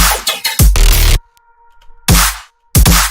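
Harsh, loud bursts of gritty, machine-like cyberpunk synth bass noise, cutting off abruptly between hits with a faint electronic hum in the gaps.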